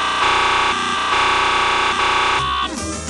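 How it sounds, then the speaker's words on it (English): A cartoonish egg bomb sound effect blares as a loud, distorted, buzzing electronic drone that shifts pitch a few times before breaking off into a garbled tail. "Of course it's the egg bomb, fool!"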